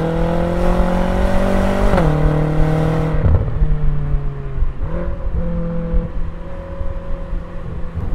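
A Chrysler 300C's engine pulls hard on a race track, a loud, steady drone that climbs in pitch, dips briefly with a gear change, then rises again as the car accelerates out of a corner.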